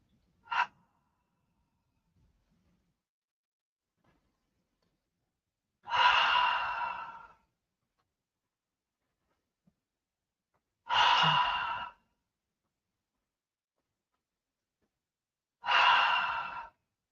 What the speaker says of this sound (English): that is the initial breathing